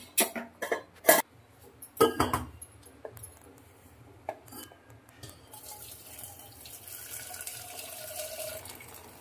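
Starchy water draining off freshly cooked long-grain rice in a home kitchen, splashing pours and trickles in short bursts at first, then a softer steady trickle as the pot empties.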